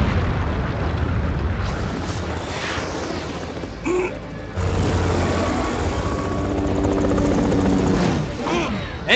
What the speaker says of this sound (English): Now back into the chopper.